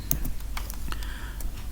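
A computer keyboard is typed on rapidly while a VBA macro is written, producing a quick, close run of crisp key clicks over under two seconds with no voices.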